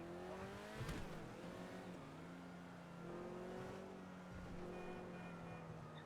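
Little green car in the GTA V video game, its engine droning and revving steadily with a sharp knock partway through, fairly faint under background game sounds.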